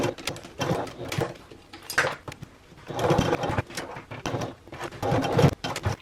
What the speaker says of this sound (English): we're going to sew a rectangular box on this end